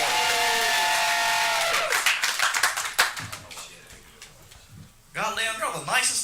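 Comedy club audience claps in a scattered burst in the middle, fading out as a voice starts talking over the room.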